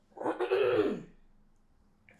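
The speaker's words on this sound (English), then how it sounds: "The coughing is not the serious stuff." Someone clears their throat with a single rough, close cough-like burst lasting about a second, then fades to quiet.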